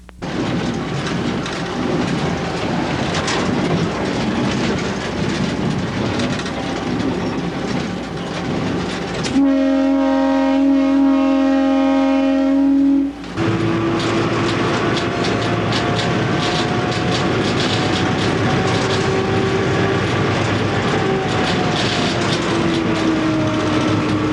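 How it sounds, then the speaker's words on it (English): A non-turbocharged GE U18B diesel locomotive hauls a Mexican tourist train, its loud engine rumble and wheel clatter passing close, broken by a sustained multi-tone horn blast midway, then continuing with rolling clickety-clack. "A non-turbocharged U-18B substitutes for our regular road power."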